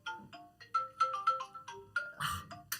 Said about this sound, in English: Of course, my phone rings.